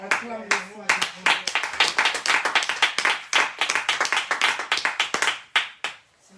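A church congregation claps steadily in rhythm, praising God, with crisp hand claps filling the space while voices carry along beneath and over them.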